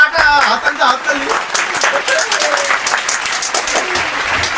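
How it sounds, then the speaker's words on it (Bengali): A group claps loudly and continuously during a playful bottle-flip challenge, the close, dense applause running throughout with voices calling over it. "হাততালি।"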